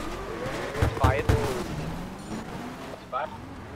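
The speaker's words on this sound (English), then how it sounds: "No, automatic gunfire now." GTA role-play game audio with bursts of gunfire and car engines during a chase involving Porsches and a yellow Ferrari, heard as several loud cracking shots over steady traffic and engine noise.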